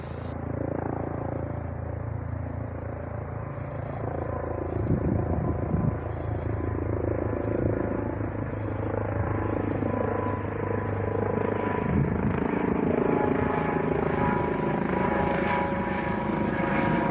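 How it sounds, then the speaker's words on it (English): A helicopter passes overhead beside a rail line, its steady rotor thump and engine drone holding loud and close throughout with no talk. "our next visitor was a helicopter."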